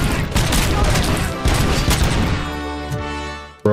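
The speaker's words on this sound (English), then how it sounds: "What the fuck is blowing up" Explosions in RoboCop: Rogue City, a dense barrage of loud booming blasts for the first two and a half seconds, then a fading rumble and a final sharp hit.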